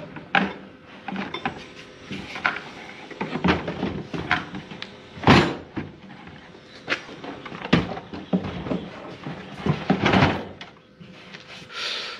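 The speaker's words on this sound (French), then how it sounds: "tous les tiroirs s'ouvrent parfaitement" Drawers being pulled open and pushed shut in a workshop fit-out inside a Renault Kangoo ZE van, a series of wooden thunks and slides at irregular intervals, fairly close, with no talk.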